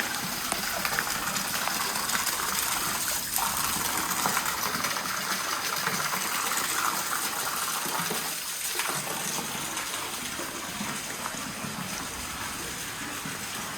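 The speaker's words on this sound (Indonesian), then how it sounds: "air yang mengalir dari sana" Water flowing out from inside Gua Langse cave, a steady rushing and splashing stream heard close, moderately quiet with constant hiss and occasional gurgles, no talking.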